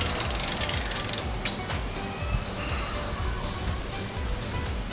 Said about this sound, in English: Come back to this side and torque this one down.